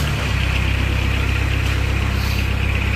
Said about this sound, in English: Now we're going to fire this Kubota to life.